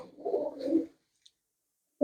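A pigeon coos softly nearby, a low rolling call lasting under a second, followed by silence and the start of another coo.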